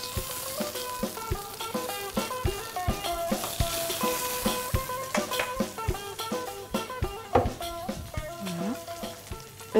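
Aubergines frying in hot oil, with a continuous sizzle broken by frequent sharp crackles and pops, plus occasional handling clatter close up, with no voices.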